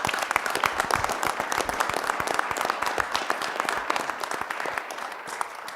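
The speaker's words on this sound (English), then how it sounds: "please give them one more round of applause" Steady round of applause at a city council meeting, many hands clapping fairly loudly and evenly throughout without talk.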